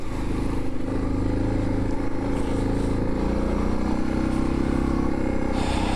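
A Suzuki DR650 dual-sport motorcycle being ridden, its single-cylinder engine thrumming steadily under heavy wind rush, loud and continuous throughout with no talking.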